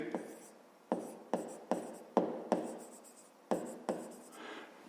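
Hand writing on paper during a fifth-grade maths exercise, with a series of short, close scratchy pen strokes in quick bursts separated by brief pauses, quiet overall.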